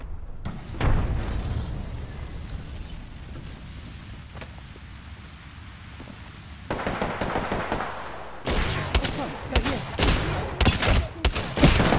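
Video game combat with a frag grenade explosion amid bursts of gunfire, a dense, loud stretch of shots and booms that grows sharper and more rapid toward the end.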